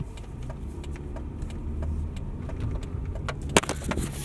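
A car's engine runs steadily at mid level with low rumble throughout, joined by a sharp click or knock near the end; no clear surge of revving is evident.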